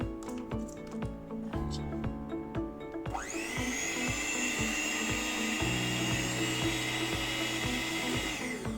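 A Sokany CX-6620 electric hand mixer whirs with a high, steady motorized whine that starts abruptly partway through after some clicking and handling, then runs continuously up close.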